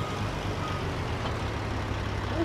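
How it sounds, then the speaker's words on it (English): A water truck drives in the Farming Simulator 22 video game, giving a steady, loud, low engine rumble with continuous road noise that holds constant throughout, and no speech over it. "A water truck."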